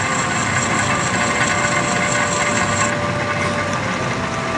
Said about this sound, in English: You run the drill bit about 500 RPM.